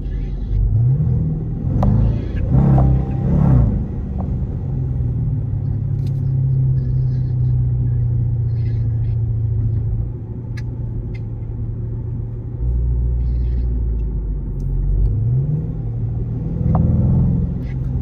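A Dodge Charger R/T's engine rumbles loudly and steadily from inside the car while driving, its deep drone swelling with occasional revs and easing off, with some talking now and then.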